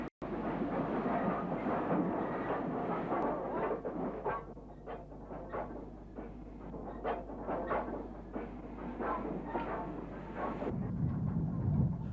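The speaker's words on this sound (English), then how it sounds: "This Gresley V2 number 60895 had apparently worked in from its home base of York." A Gresley V2 steam locomotive, number 60895 from York, passes close by at Birmingham New Street with a steady rumble and rhythmic wheel clatter from the carriages, then fades into a lower drone.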